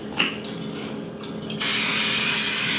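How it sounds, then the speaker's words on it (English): Cooking spray hisses into a baking pan, starting partway through and continuing loud and close to the end, following a few quieter handling sounds. "Now all I need to do is spray a pan."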